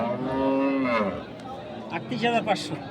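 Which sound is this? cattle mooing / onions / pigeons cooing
cattle mooing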